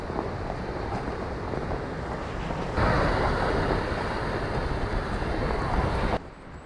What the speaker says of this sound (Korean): 부천동 33경 중 28경 부천 폭포의 모습입니다.